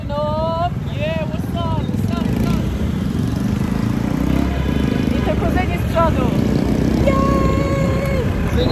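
Motorcycles riding in traffic in Vietnam, a continuous engine drone with wind buffeting and repeated horn beeps from nearby bikes, while people talk over the noise.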